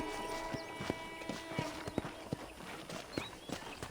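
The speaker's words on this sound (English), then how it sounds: "let's see if you can still ride a horse" Rhythmic clip-clop of horse hooves at a steady walking pace in the video game Red Dead Redemption, crisp and close, with faint background ambience.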